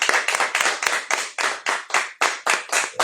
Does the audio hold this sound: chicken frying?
no